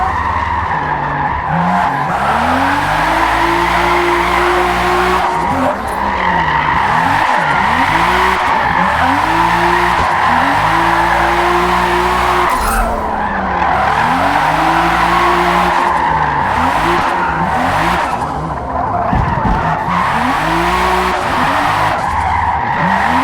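A 1998 Toyota Supra RZ with an AWD drift tune sliding side to side on a track in a Forza racing game: continuous engine roar with repeated rising and falling revs and long tire squeals, loud and unbroken throughout.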